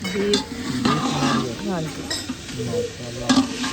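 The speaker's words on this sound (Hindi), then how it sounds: "बीफ जो है ना भुनाई हो रहा है हमारा" Beef stir-fries in a pan for an iftar meal, with a ladle scraping and clanking against the metal over a constant sizzle. The strokes come at a loose, irregular rhythm and sound close and fairly loud.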